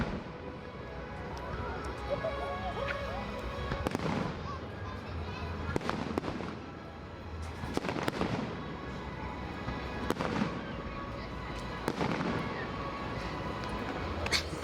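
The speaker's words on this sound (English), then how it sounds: "Kind of see the fireworks up over that building." Fireworks bursting over EPCOT at night, a series of sharp distant booms and crackles at irregular intervals of a second or two, with a low murmur of crowd and voices underneath.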